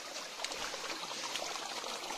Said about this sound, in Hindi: ये देखो ठंडा पानी इतना है ना